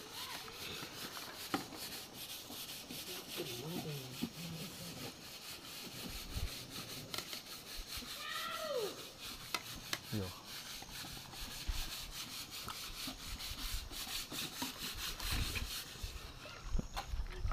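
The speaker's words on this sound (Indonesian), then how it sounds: "Gosok pakai itu abu begitu langsung ini kinclong." Object scrubbed with ash to polish it, a continuous faint rough rubbing that keeps up steadily with small scrapes, amid quiet outdoor background sound.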